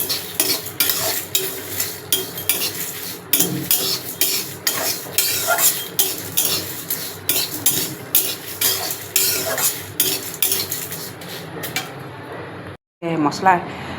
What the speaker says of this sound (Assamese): এয়া মছলাখিনি এতিয়া শুকান কেৰাহীত 10 মিনিটমান ভাজি ল'ম, চব লগ কৰি।